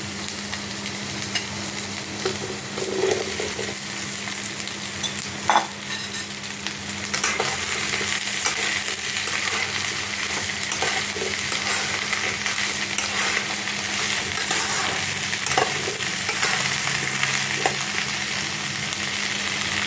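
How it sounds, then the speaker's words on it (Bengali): Okra stirred and frying in hot oil with onions in a pan, a steady close sizzle throughout with occasional scrapes and clinks of the stirring utensil. "নেড়ে এর মধ্যে ভেন্ডিগুলো দিয়ে দেবো আমি"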